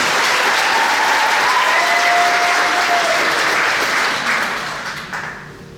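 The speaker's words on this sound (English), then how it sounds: "Give yourselves a round of applause again." Crowd applause at a live music show, loud and sustained clapping from a large audience that stays full for several seconds before gradually fading out.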